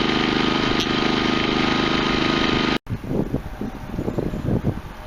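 A Westinghouse iGen 4200 inverter generator runs steadily through its break-in on normal mode, a loud continuous hum that cuts out abruptly partway, then returns as uneven, rougher bursts of engine noise.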